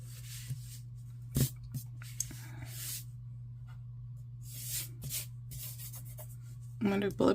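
A pen scratches short bullet points onto a Classic Happy Planner page in quiet, close bursts of scribbling over a steady background hum, with brief taps and rustles between strokes.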